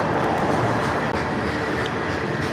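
A long freight train hauling asphalt rumbles past beneath a bridge, giving a loud, steady, close roar of rolling cars that fills the whole stretch with no pauses and only faint wind.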